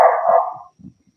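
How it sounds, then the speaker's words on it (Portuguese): A pet dog barks once in a loud, drawn-out burst nearby while a live online conference is getting started, followed by a couple of soft low thumps and then quiet. "Porque a Cacau tá sempre acompanhando, latindo horrores"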